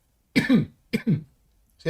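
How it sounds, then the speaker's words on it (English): Two close, sharp coughs from one person, each a rough double burst, separated by a brief pause in an otherwise quiet room, with the start of a third at the end. "I'm just going to cough a minute."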